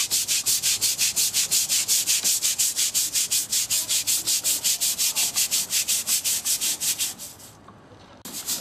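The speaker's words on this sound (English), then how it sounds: "After like 3 minutes of scrubbing here" A brush scrubs a teak boat deck in fast, even back-and-forth strokes, loud and close with a steady rasping rhythm that slows and stops briefly near the end.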